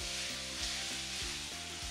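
Food sizzles and crackles steadily in hot oil, a constant frying hiss with faint rhythmic stirring beneath it.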